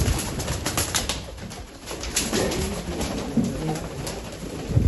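Golden pigeons coo softly in a loft, with repeated low, throaty coos overlapping through the short stretch amid faint background noise.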